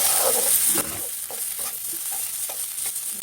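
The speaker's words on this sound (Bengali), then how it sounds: "মাছগুলো দিয়ে দিচ্ছি। মাছগুলো পেঁয়াজের সঙ্গে ভেজে" Dried fish (loitta and chepa shutki) frying with onions in a pan, a bright sizzle at first that settles into a quieter crackle with a few light stirring scrapes, close and brief.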